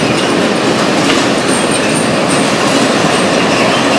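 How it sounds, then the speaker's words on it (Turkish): A train rumbles past close by, loud and steady, with rhythmic clattering of wheels on rails and a faint metallic squeal throughout. "Bir dakika abi tren geçiyor abi."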